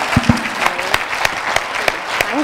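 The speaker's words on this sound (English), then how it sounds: "Raageshwari deserves a huge round of applause first" Audience applause at a motivational talk, a steady wash of clapping from a crowd, fairly loud, with a few sharper close claps and a faint voice underneath.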